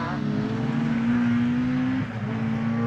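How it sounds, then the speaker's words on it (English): Rally cars including an MG Metro 6R4 race past nose to tail across a loose surface in wet conditions at Pembrey, their engines holding a steady loud drone with a brief dip partway through. "Across the loose they come now, nose to tail."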